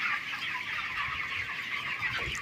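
Dense flock of chickens, about 5000 birds roughly 25 days old, clucking and chirping nonstop inside a 200 by 30 foot automated poultry shed, a steady near chorus with no pauses.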